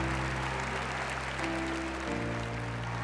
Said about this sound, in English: a well-deserved round of applause for the European champ